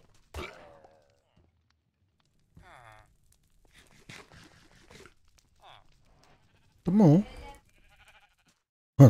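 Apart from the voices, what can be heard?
sheep bleating in the video game Minecraft, All the Mods 9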